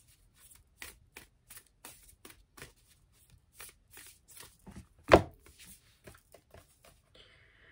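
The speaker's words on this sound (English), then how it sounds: "I'm gonna pull Oracle cards for y'all" Oracle cards are shuffled in a quiet room, giving a steady run of soft riffling bursts with one louder snap near the middle, and no voices.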